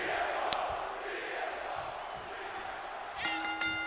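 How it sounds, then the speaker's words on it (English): Wrestling crowd on WWE 2K24 SmackDown cheering for CM Punk: a continuous roar with a sharp click near the start and rising chanting tones at the end. "And this crowd behind CM Punk."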